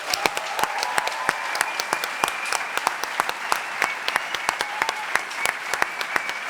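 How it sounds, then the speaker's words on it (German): A theatre audience at a sold-out live show applauds, dense, steady clapping from many hands that fills the room and carries on throughout. "können wir nochmal bitte einen riesen Applaus für euch haben?"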